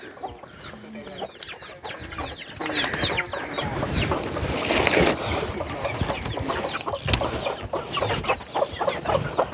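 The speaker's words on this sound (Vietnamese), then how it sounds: "Cô có nuôi gà mà." Chickens cluck repeatedly around a remote hillside home in a high mountain area, a steady chorus of close and mid-distance clucks that swells and stays busy throughout, with no talking.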